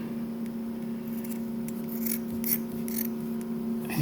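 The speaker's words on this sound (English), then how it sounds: "I'm going to cut another pad here" Scissors snipping through a microgreens growing pad, a few faint crisp cuts spaced out over a steady low electrical hum, with no talking.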